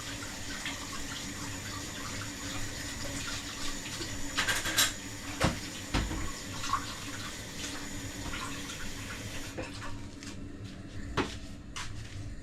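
Water poured from a tap or vessel onto sugar in a pan for syrup, a steady running splash with a few clinks and knocks of utensils, close by and fairly loud.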